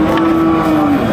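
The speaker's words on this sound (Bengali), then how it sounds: "ওই গরুটা দেখ" A cow lows once at a cattle market, a loud sustained moo close by over a murmur of background market noise.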